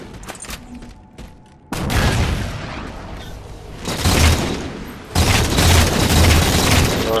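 Halo 4 multiplayer gunfire: bursts of game weapon shots and booming impacts that cut in abruptly and come in dense, loud stretches.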